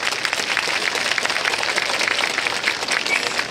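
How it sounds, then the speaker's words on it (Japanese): A festival stage crowd applauds steadily, dense clapping at a constant loud level throughout with no voices standing out. "皆さんぜひ林方の皆さんに大きな拍手をいただきたいと思います。"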